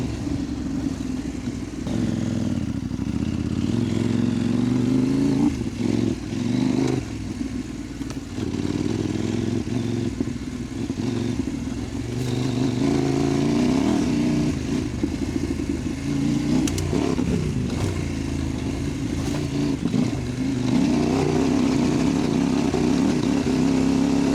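A CFMOTO 800MTX adventure motorcycle engine drones loudly and continuously as it climbs through a rut on a forest trail, the revs rising and falling with throttle while suspension and gear clatter underneath.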